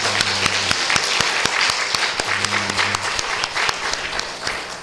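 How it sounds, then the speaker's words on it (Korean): A church congregation claps in praise to God during a Sunday service, a brisk, steady round of clapping filling the room, with a low sustained tone underneath. "우리 아버지 하나님께 영광의 박수를 드리겠습니다."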